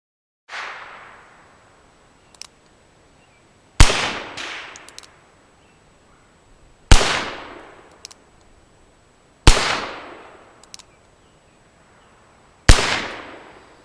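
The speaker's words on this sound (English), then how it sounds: "let's start off shooting with the cap and ball cylinder." Five sharp, loud reports from a Pietta Remington .31 caliber cap and ball pocket pistol, spaced a few seconds apart outdoors. Each shot rings out briefly and fades, with quiet handling clicks between shots.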